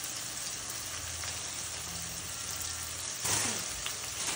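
Curry leaves dropped into hot oil for a brinjal dal, a steady broad sizzle and crackle that swells briefly with a louder spitting burst near the end, close and continuous.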